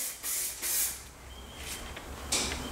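A DNA aerosol spray can sprays paint onto a synthetic stock in several short, close hissing bursts with brief pauses between them, loud and alone with no talk.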